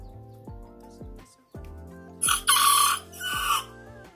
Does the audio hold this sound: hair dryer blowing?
no